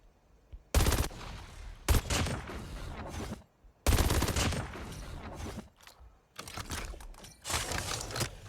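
Rapid bursts of gunfire from a fully upgraded, maxed-out weapon in a video game, several loud volleys separated by short pauses, with no talking.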